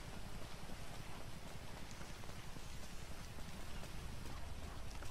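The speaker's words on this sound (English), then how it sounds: "Oh, it is raining." Steady rain falling in Grand Theft Auto V at Vespucci Beach, a continuous dense hiss of drops on surfaces heard alone at a low, even level throughout.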